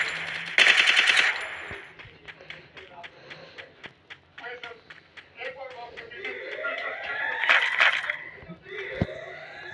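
Automatic gunfire in a battle royale game crackles in a few sharp bursts between scattered single shots and game effects, while a player talks throughout.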